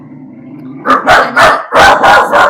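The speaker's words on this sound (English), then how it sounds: "my dog is barking" A pet dog indoors barks loudly and close by, a rapid run of six or so sharp barks in two bursts after a low murmur of background noise.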